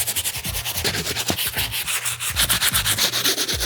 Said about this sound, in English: This brush is designed to get a deeper scrub on the midsole as well as that outsole.